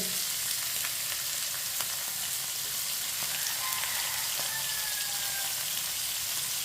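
Chopped onion fries in a pan for tinday ki sabzi, giving a constant soft hiss and crackle with occasional faint clinks of a utensil, steady and fairly quiet with no speech.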